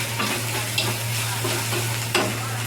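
Red chili powder and cumin powder being stirred and fried in a pan for a banana flower curry with hilsa fish head, giving a steady close sizzle broken by a few scraping stir strokes over a constant low hum, with no talking.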